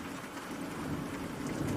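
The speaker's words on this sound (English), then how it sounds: "waiting for the storm to come." Steady rain with a low thunderstorm rumble, a continuous even wash of drops with no voices, moderately quiet throughout.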